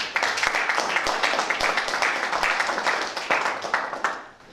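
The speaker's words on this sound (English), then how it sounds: "a round of applause" A live audience applauds a speaker at a public speaking event, with many hands clapping in a dense, lively burst that holds steady and then fades out at the end.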